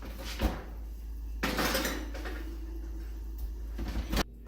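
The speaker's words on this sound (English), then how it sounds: "we're gonna put them in the oven" A tray of marshmallow treats goes into a home oven amid faint clattering of a pan, a louder clank and the sliding thud of the oven door, all quiet and close with no talking.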